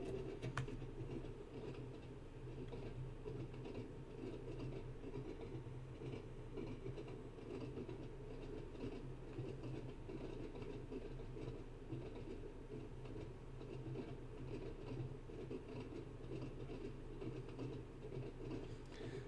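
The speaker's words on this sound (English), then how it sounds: "I'm going to shut off the power and just allow the train to coast, as we are on a downward gradient" An Isle of Wight electric train in Train Sim World 2 coasts downhill with power shut off, a steady rumbling roll of wheels and motors that stays even and continuous, with no speech.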